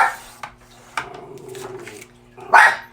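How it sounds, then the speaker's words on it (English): A small rescue dog yaps in a few short, sharp barks close by, spaced irregularly, with one louder bark near the end and quiet gaps between. "he barks at shiny things"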